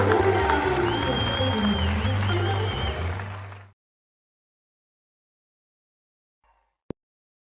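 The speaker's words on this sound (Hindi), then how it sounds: "जोरदार तालियां" An audience breaks into applause over music at a Hindi film song show, loud clapping that runs for about three and a half seconds, then cuts off into silence broken by one sharp click.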